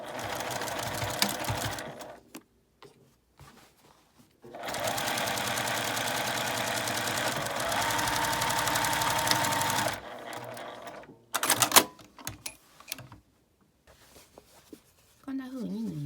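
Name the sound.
sewing machine stitching a drawstring bag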